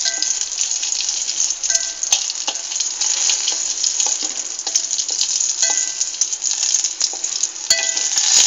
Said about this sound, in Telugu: పచ్చిమిర్చీలను కొంచెం ఆయిల్ వేసి దోరగా వేయించాలి.